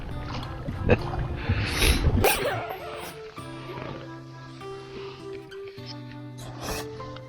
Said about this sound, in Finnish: Just kun mä sanoin, niin moottoriveneen ääni alkoi kuulua.